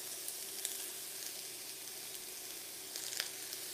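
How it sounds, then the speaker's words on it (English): Pieces of lamb hitting a hot wok sizzle steadily, a fine bright hiss broken by a few louder spits and crackles, heard close with no talking. "Oh, hear that sizzle!"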